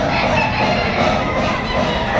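Rooster crowing amid clucking fowl at the Padre Garcia chicken market in Batangas, a loud, dense, continuous wash of bird calls with no clear break.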